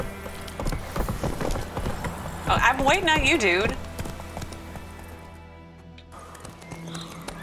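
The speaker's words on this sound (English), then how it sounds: "I'm riding a horse." Hoofbeats from horse riding in The Witcher 3 patter under someone talking, with a brief whinny-like cry in the middle before the sound settles into quieter ambience.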